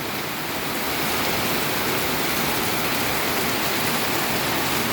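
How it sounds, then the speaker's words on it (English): Heavy tropical monsoon rain pours down steadily during an evening storm, a dense, continuous roar of falling water that stays loud and even throughout with no voices. "oh, it's a lot of rain too."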